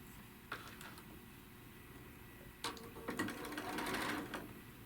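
A sewing machine stitching quilt blocks runs in short bursts: a brief whir, a pause, then a longer run of a few stitches, quiet and close with no talking.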